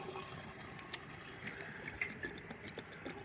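Fuel gurgles and trickles from a canister into a car's fuel tank, a faint continuous liquid flow with small glugs and splashes, heard close up and quiet.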